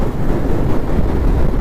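Strong wind buffets the microphone during a motorcycle ride on a highway, a loud, close, low roar that churns unevenly for a brief moment.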